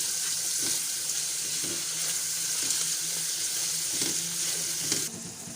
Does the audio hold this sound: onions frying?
yes